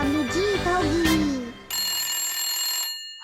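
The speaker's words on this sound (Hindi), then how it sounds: "मारुको, तुम्हारा फोन है" A telephone rings in a family home in the Chibi Maruko-chan cartoon, a loud electronic bell trilling steadily in the second half after a voice speaks over the opening, then stopping abruptly.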